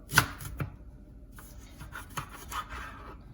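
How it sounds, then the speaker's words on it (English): A knife slicing through a sweet potato, cutting it straight in half with a not-very-sharp blade: a sharp close chop near the start, a second cut, then softer scraping and rubbing against the board. "We're going to start by cutting the sweet potato straight in half."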